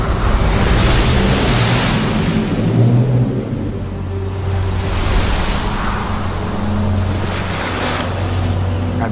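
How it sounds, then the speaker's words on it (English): Dramatized sea waves driven by a strong east wind: loud, continuous roaring surf with surging swells and gusting wind rising and falling, no voices. "the Lord caused the sea to go back by a strong east wind all that night"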